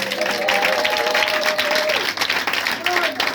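A church congregation breaks into applause at a worship service, dense clapping filling the room while a voice carries over it with sustained, tonal speaking or singing.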